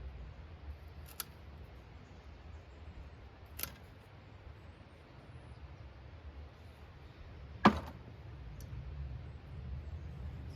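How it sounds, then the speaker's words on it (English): Pruning shears snip dead wood from a tree-form panicle hydrangea outdoors, giving a few sharp, isolated clicks spaced seconds apart over a faint, steady background. "I'll trim that out because it's dead wood."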